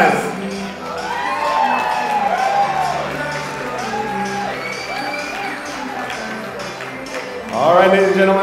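Guests at a wedding reception clap and cheer for the newlyweds, with whoops and shouts over continuous applause and a fresh loud burst of cheering near the end.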